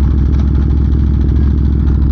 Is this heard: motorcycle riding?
yes